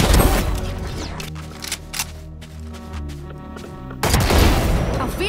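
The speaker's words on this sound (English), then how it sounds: "Bomb grenade out." Gunfire and grenade blasts from the video game Valorant: dense bursts of shots open the clip, sparse single cracks follow in a quieter middle stretch, and heavy fire erupts again near the end.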